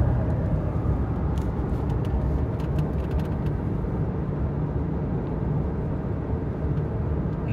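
Truck engine fitted with a Walker Quiet Flow muffler, revved gently, a low steady exhaust rumble that stays muted and even throughout.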